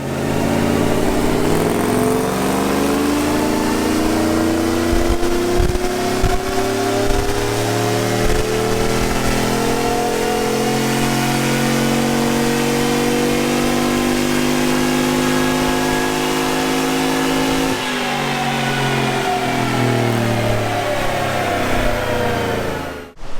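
Chevrolet Silverado V8 with a Texas Speed Stage 2 cam, ported heads and long-tube headers, running on ethanol flex fuel, revs in a sustained wide-open dyno pull, its loud, rising roar holding steady before a brief dip and climb again.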